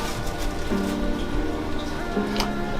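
Steady rain pattering on a surface, a constant hiss with faint tonal hum and occasional brighter drips.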